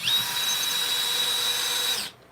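A power drill drives long pocket hole screws into wood with one continuous, loud, high whine up close. It lasts about two seconds and then cuts off sharply.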